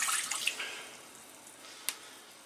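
Diluted liquid, topped up with water to about 240 ml, poured into a cooking pot while making beetroot ketchup: a faint, soft splashing stream that trails off, with one small clink near the end.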